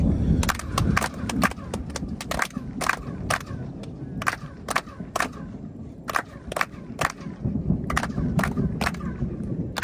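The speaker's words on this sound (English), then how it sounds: "After three, we have to make a few claps." A crowd claps together on a count, the sharp claps echoing off a staircase. Single strikes repeat at uneven intervals, each ringing briefly, over a low murmur of people.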